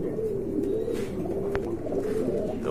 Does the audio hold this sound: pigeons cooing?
yes